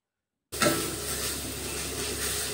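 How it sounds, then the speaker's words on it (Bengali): Spice paste with turmeric and green chilies sizzles loudly in a hot pan, starting with a sudden hiss and continuing as a steady, close frying crackle with faint stirring. "দিয়ে ভালো করে একদম মশলাটা কষিয়ে নেবো"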